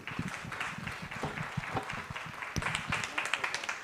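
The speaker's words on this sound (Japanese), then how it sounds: "3人の方に拍手をお願いいたします" An audience at a Japanese environmental forum on protecting Aso's water resources applauds the panelists after a panel discussion, sustained moderate clapping filling the whole stretch, steady with slightly louder bursts near the end.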